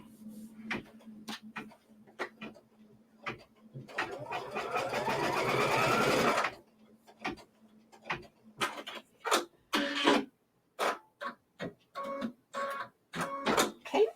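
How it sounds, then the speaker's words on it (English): A sewing machine stitches quilt fabric in a short burst of rapid whirring, surrounded by scattered clicks and handling noises. "Replace this into my machine and stitch that down."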